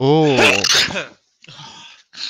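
A single loud sneeze bursts out close by, and a short exclamation and brief talk follow in separate bursts.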